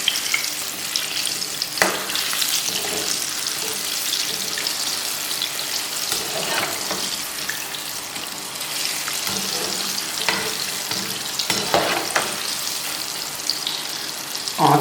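Chicken tempura pieces, dipped in batter, fry in oil over medium heat with a steady bright sizzle and crackle, punctuated by occasional louder pops and stirring clicks, with no talking.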